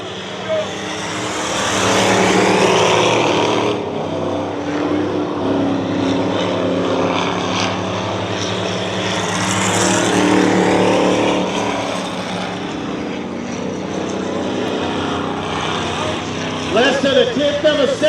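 Dirt track race cars roar around Dirtona Raceway, engines droning loud and continuous and swelling as cars pass close, while an announcer talks over the racing.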